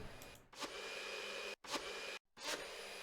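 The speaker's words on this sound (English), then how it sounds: "A blender. Oh, we needed a blender." A blender whirring steadily with a high-pitched motor whine, cut off twice by brief pauses and sharp restarts, fairly faint.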